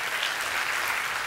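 Audience applause for a speaker at an evening AI talk event, a dense uniform patter of many hands clapping, loud and steady throughout the short stretch with no voices over it.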